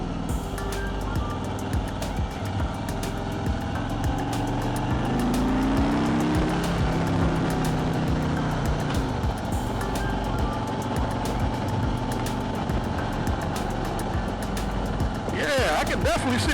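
A 2021 Harley-Davidson Road Glide Standard motorcycle on a test ride, its engine rumbling steadily with road and wind noise throughout, while a person speaks over it.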